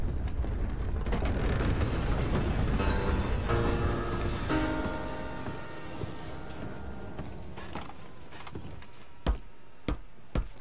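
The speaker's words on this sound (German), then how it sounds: "Warte, bis der Zug anhält." A train in the video game Red Dead Redemption 2 rumbles along loudly, then its noise winds down as it comes to a stop, followed by a few sharp mechanical clanks in the quieter tail.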